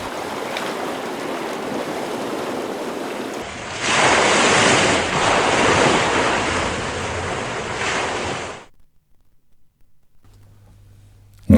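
Sea waves surge into rock-cut pools on the coast at Calp, a steady broad wash of surf that swells louder midway and then drops away abruptly to near silence, with no voices.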